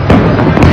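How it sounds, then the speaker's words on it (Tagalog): Fireworks explode in the sky over Tehran, Iran, a loud, dense burst of crackling booms filling the brief moment with no voices. "napalitan ng pagsabog ng fireworks ang kalangitan ng Tehran sa Kapitolyo ng Iran"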